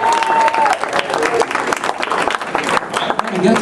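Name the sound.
audience applause at farewell celebration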